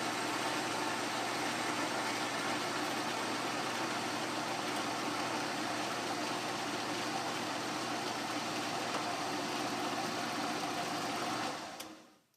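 An Atlas 10-inch lathe runs steadily while parting off a part, giving a continuous even machining hum and hiss. It holds at a constant level, then cuts off abruptly near the end.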